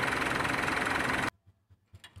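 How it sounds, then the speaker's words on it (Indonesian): A Mitsubishi Pajero Sport engine idles roughly with heavy body vibration, a loud close rumble that cuts off abruptly after about a second, followed by a few soft, low thumps. "terlihat sangat getar sekali ya terutama di bagian mesin"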